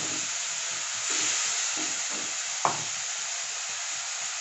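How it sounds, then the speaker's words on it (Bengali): Potatoes fry with cumin in a pan for a rohu or katla fish curry: a steady, moderate sizzle with rhythmic soft stirring scrapes and one sharp clack midway. "একটু ভাজা করবে, এর মধ্যে আলুটাকেও দিয়ে দিচ্ছি"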